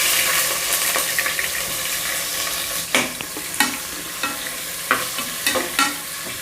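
Onions with whole spices such as cloves, cardamom and bay leaf frying in ghee and oil for mushroom biryani: a steady close sizzle, broken by several sharp clatters of a spoon stirring the pan.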